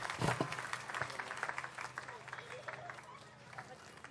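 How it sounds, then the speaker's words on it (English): An audience gives a round of applause, scattered claps peaking early and then thinning into a lighter patter, with crowd chatter and voices underneath. "The biggest possible round of applause comes up now."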